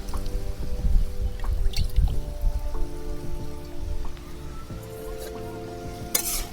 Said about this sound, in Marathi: तर हरभऱ्याची डाळ शिजण्यासाठी ना थोडासा पाण्याचा हापका मारून घेते